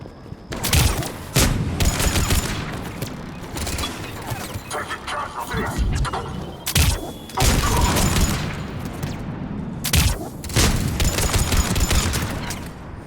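Enemy gunfire in the video game Mass Effect 3: loud, sustained bursts of shots and booms, with sharp volleys recurring throughout and a brief lull between them.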